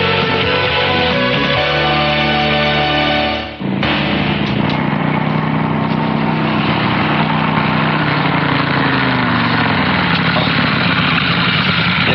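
A motorcycle engine runs close by with a loud, steady droning hum, dipping briefly in pitch before settling back into a constant idle-like rumble throughout.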